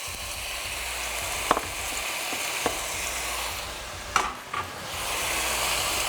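Boiled potatoes and red and orange peppers frying in a pan, a steady close sizzle with a few sharp clinks of a utensil against the pan.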